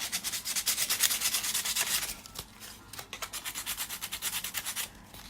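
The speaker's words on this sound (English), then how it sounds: "you can also use the sandpaper to scuff up your raised stencil a little bit" Sandpaper scuffs across a raised stencil on a mixed media card, giving close, steady rhythmic rubbing strokes, loud at first, then a brief pause and a softer run of strokes, with no voices.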